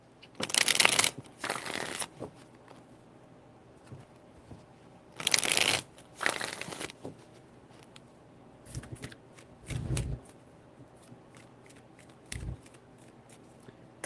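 Tarot cards being shuffled in several quick riffling bursts separated by short pauses, close up and crisp in a quiet room.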